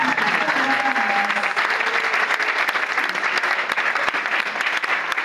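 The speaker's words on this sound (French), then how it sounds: "Can you clap for this?" A church congregation applauds together in a sustained, even wave of clapping that carries steadily for several seconds at a strong, close level.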